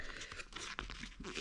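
Paper being folded and creased by hand while setting a mouse trap under a bed, a close crinkling, tearing-like rustle with one sharper crunch partway through.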